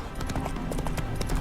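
Roach, a horse in The Witcher 3 video game, trotting with a quick, steady clip-clop of hooves over a busy, dense background of game sound.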